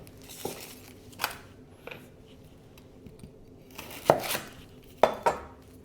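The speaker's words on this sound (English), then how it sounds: "I'm also going to be using 1 onion, cutting off both ends" A knife cuts both ends off a red onion on a board, giving a few sharp, separate chops and clacks spaced out over several seconds, the last two louder and close by.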